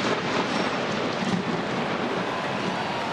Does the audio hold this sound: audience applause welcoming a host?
no